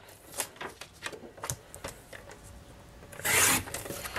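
Paper is cut with a paper trimmer while making cards, giving a series of short scraping and sliding strokes, then a louder rasping slide near the end.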